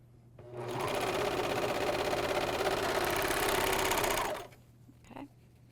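An AirThread 2000D serger runs steadily for about four seconds stitching the center seam of a bathrobe belt, a loud, fast, even mechanical whir that starts and stops abruptly, close and alone.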